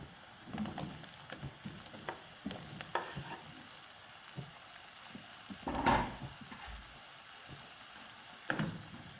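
Tomatoes hit a pan of fried onions for aloo palak and sizzle softly, with occasional louder spatters and stirring scrapes over a steady, quiet frying hiss.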